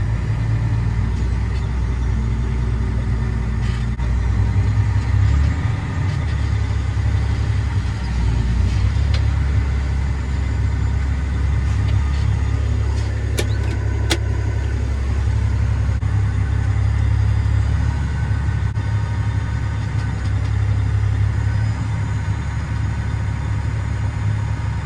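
A big grain auger fills a 1,000 bushel truck, its engine droning in a continuous low rumble throughout, steady and close, with no voices.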